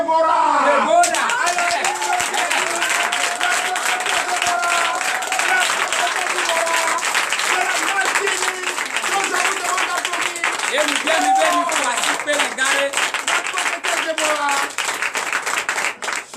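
A congregation at a Sunday church service in Comè, Benin, breaks into sustained loud applause with cheering and whoops, a dense wash of clapping that continues for the whole stretch.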